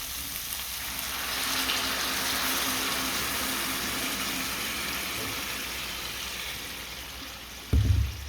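Water is added to a covered pan of cooked-down spices for a rohu fish and cauliflower curry, giving a steady hissing sizzle that fades slightly, followed by a dull knock near the end. No one speaks.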